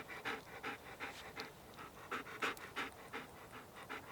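A dog pants rapidly and rhythmically outdoors in the Scottish countryside, a steady run of soft breathy puffs, close but fairly quiet, with no talking.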